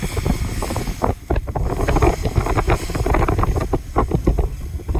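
Gusty wind buffets the microphone outdoors beside a ditch. It comes as loud, uneven rumbling bursts that rise and fall over a few seconds, with no voices.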